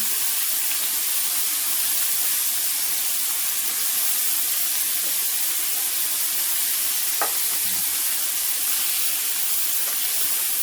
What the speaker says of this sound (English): I like to turn them flat side down to get that nice sear on them